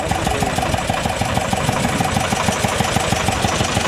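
Tractor engine running in a field during harrowing to seal soil moisture with SF 240 harrows, a loud, steady rhythmic diesel chug with a fast knocking pulse throughout, close by.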